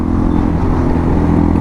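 An unrestricted motorcycle engine, not limited for an A2 licence, drones loud and close in a steady, rough hum with no speech.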